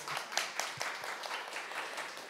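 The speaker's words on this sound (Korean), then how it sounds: "이쯤에서 박수 한번 쳐주셔야 되지 않을까요?" Light audience clapping during a school textbook monitoring presentation, a scattered patter of individual claps, fairly soft and short, with no talk over it.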